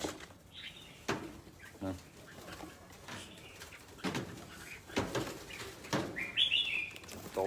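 Faint bird calls and short chirps, with occasional soft wingbeats, scattered across a quiet background.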